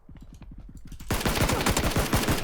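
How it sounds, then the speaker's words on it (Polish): Gunfire in the video game PUBG, rapid automatic bursts that start as a lighter rattle and then become a loud, dense stream of shots; no talking. "ktoś się tutaj strzela, naprawdę?"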